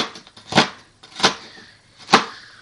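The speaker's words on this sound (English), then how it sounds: "I'm chopping the onion." A knife chops onion on a cutting board for a crawfish étouffée, three distinct, fairly loud chopping thuds spaced a little under a second apart in a kitchen.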